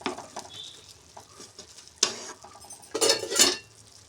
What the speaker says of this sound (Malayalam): നല്ല ഇളക്കി